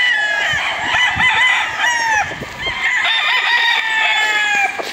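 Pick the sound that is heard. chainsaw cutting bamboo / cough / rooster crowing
rooster crowing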